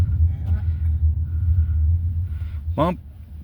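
Car rolling over bumpy Michigan roads, a steady low rumble of tyres and engine inside the cabin with occasional thumps from the uneven pavement, people talking over it.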